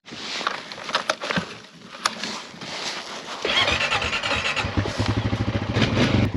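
Honda Rancher 420 ATV engine revving hard outdoors, rising into a loud, sustained rumbling roar with a brief stumbling sputter, following a few sharp knocks and clatters at the start.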